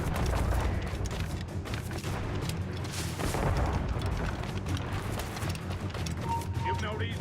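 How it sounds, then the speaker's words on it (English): Ship mortar fire in Assassin's Creed Rogue makes heavy, repeated booms and rumbling blasts throughout a busy naval battle, loud and continuous, with voices shouting faintly in the mix. "Is that a ship mortar?"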